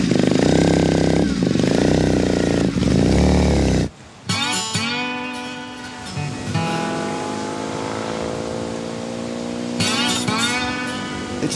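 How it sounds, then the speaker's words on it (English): Motorcycle riding up Mauna Kea in Hawaii: a loud, steady engine drone that drops off suddenly partway through, then continues at a lower level with shifting, rising and falling pitch. Background sound is mixed in. No clear speech. "does the trip on his motorcycle."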